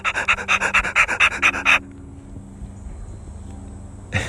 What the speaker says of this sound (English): As I walk the dog outside and it's huffing and puffing.